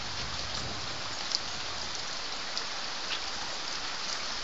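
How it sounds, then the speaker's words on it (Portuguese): Steady rain during a flood in the mountains, falling as a dense, even hiss with a few sharper drops or splashes standing out, loud and close with no voices. "Chuva."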